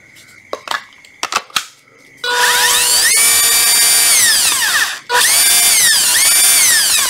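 Makita 14V cordless hammer drill with a 13 mm chuck, running loud and close as a steady high whine whose pitch sways. It cuts out briefly and then restarts, after a few sharp clicks at the start.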